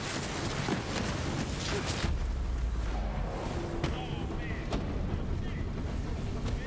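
Rocket launcher fire and explosions in the shooter game Borderlands 3, a heavy low boom around two seconds followed by sharp cracks and lighter blasts, mixed with game effects and faint background.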